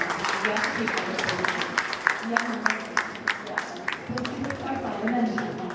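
Scattered audience clapping at a staged Hindutva-themed event, a light ripple of claps running underneath a speaking voice that dominates.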